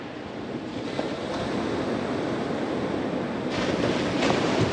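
Sea waves wash onto a sandy beach at Sandilands on the UK east coast, heard as a steady broadband roar of surf with swelling breaks and some wind noise on the microphone, with no voices.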